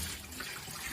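Water is dumped out of a cheesemaking pot while butterkäse (butter cheese) is being made, giving a steady, close rush of pouring liquid with no talk.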